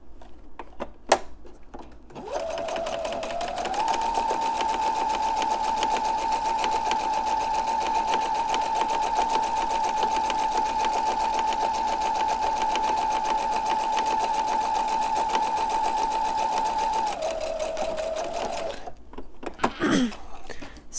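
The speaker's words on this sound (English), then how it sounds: "I'm stitching the curved edges together." Sewing machine stitching a curved seam on a fabric face mask, a long steady whirring run with a fast even needle chatter that speeds up then slows near the end, close and continuous with brief handling clicks before and after.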